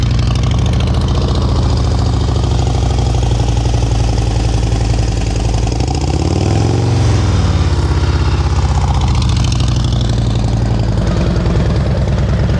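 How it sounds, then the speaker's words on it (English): A motorcycle engine putters at a rough, vibrating idle during slow-speed riding practice, with a loud, close, steady thrum that swells briefly midway. "The whole engine is shaking."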